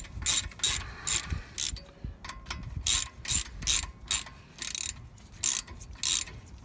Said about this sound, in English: This is where your 13mm socket comes in.